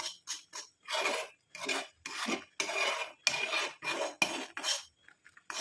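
A thick mixture scraped and stirred in an iron kadai, a series of about a dozen rasping, gritty strokes in quick succession, close and fairly quiet with short pauses between them.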